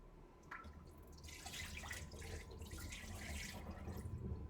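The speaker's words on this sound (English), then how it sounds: "But that's fine, we'll just keep rinsing it." Water runs and drips into a sink as rice is rinsed, a close, continuous splashing stream with small drips and swirls, fairly quiet overall.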